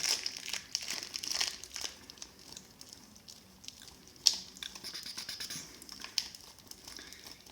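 Plastic packaging is crinkled and crumpled in the kitchen while nachos are prepared, with irregular close rustling and crackling bursts and a few sharper crunches, no talk.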